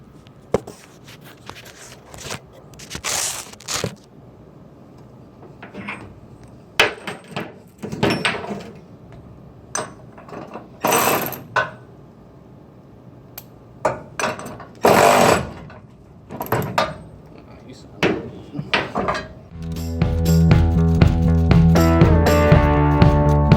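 Bolts being tightened on the subframe of a 1967 Chevrolet Camaro in a garage: irregular bursts of loud power-tool rattling with gaps between, then a sustained buzzing run near the end, with no talk.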